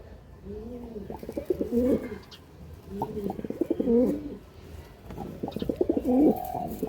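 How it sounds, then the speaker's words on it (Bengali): Kaldum Madras pigeons at a loft stand give three distinct bouts of deep, bubbling coos, close and moderately loud, separated by brief pauses. "এই হলো পায়রা স্ট্যান্ড, ছাড়ছি, দেখতে পারেন।"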